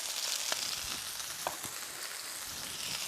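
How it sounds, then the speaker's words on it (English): Shallots sizzle and crackle in a frying pan, a steady close frying hiss broken by occasional sharp pops. "that will continue to sizzle away"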